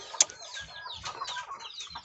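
Farm chickens cluck softly in short scattered bursts, one sharp squawk near the start, fairly close and quiet with no talking.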